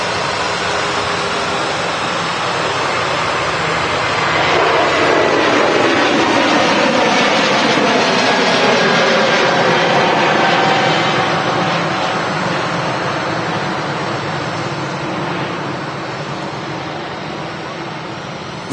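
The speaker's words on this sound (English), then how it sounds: "That aircraft on its way down to Istanbul." Turkish airliner departing Manchester Airport, a loud broad jet roar that swells toward the middle and slowly fades, with a voice talking over it.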